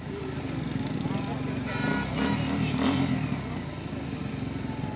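Motorcycles at a bike rally in Karachi, engines droning and revving steadily in a continuous mid-pitched roar, with a busy crowd and street clatter mixed in.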